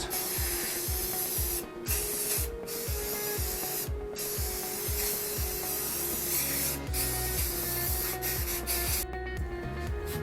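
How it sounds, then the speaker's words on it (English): Steady hiss of an aerosol can spraying black paint almost continuously, with a few short pauses and rhythmic rattling or rubbing underneath. "get your black paint, and you're going to spray all the way around"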